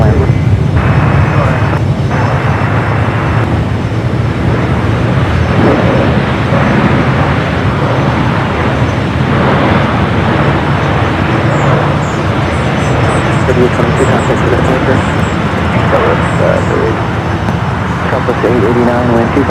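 An American Airlines heavy jet lands at LAX, its engine roar steady and loud throughout under the tower radio chatter of air traffic control voices.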